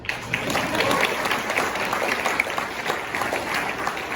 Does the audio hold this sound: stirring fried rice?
no